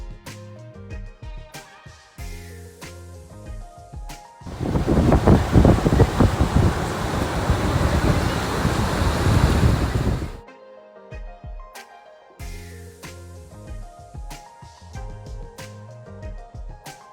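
Water from a stream heading toward Kyoti Waterfall rushes in a steady, loud broadband roar for about six seconds in the middle, set between stretches of quieter music-like tones.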